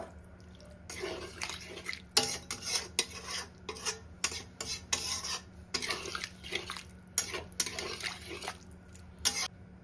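A ladle stirring amruta bhanda curry in a metal pot over a low flame, with repeated scraping, clinking strokes in an irregular rhythm, close and fairly loud, with short pauses between bursts.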